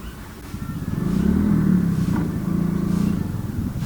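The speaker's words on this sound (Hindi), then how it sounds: "चलो पहले मैं अपनी बाइक स्टार्ट कर लेता हूँ।" A motorcycle engine starts and settles into a steady idle with a low, rumbling throb that swells and holds, heard up close without talk.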